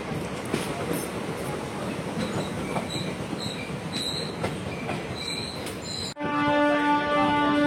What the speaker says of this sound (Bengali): এক মিনিট অফিসিয়াল হল্টের শেষে ট্রেন আর্চিপাথার রেলওয়ে স্টেশন ছেড়ে তার পরবর্তী গন্তব্য সিমেন্টচাপাড়ির উদ্দেশ্যে রওনা হলো